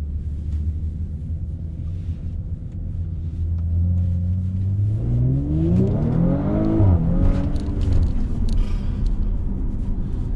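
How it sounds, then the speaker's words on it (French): An Audi RS5-R in sport mode accelerates hard, a low steady idle rumble swelling into a rising engine roar with climbing, sweeping pitch and a brief dip as it shifts, loud and close with no talk. "Je vais vous faire 2-3 accélérations, vous allez voir, je me suis calé en mode dynamique"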